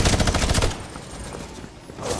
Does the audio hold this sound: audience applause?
no